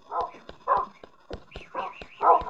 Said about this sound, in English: I've spawned a dog.